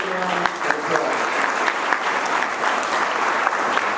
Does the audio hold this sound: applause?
yes